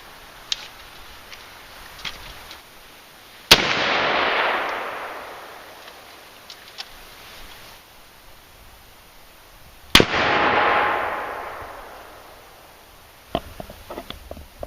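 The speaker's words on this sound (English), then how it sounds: "Now let's shoot to 450." Two sharp, loud shots from a 450 Bushmaster rifle, spaced several seconds apart outdoors, each followed by a rolling echo that fades, with faint clicks and handling noises between.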